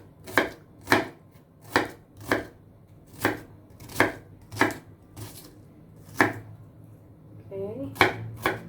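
Knife slicing a small red onion on a cutting board, a steady series of about a dozen crisp, close chops at a roughly even pace, with a short pause before the final cuts.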